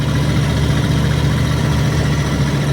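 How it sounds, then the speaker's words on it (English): A used RV with engine trouble, short on power while driving through downtown Orlando traffic, gives a steady, loud low drone with a rough, throbbing hum that continues unbroken. "That is my brand new, well, not brand new, but brand new to me RV struggling. It's got some kind of engine trouble."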